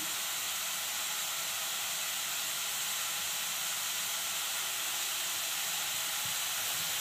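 Onions frying with salt in a pan, a steady loud broadband sizzle and hiss that holds evenly throughout with no talk.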